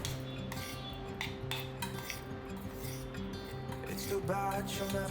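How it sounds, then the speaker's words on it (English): A spoon scraping and clinking in a pan as sabudana khichdi is stirred with salt, pepper and sugar, giving a steady close rattle of utensil against metal that runs throughout with no talk. "so now I'll add salt, pepper and a little bit of sugar, then mix it well."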